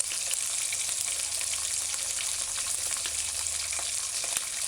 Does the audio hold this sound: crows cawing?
no